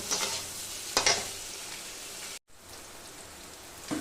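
Chopped onion and tomato sautéing with salt in a pan for chicken keema, a soft continuous sizzle with a few louder stirring scrapes and a brief dropout partway through.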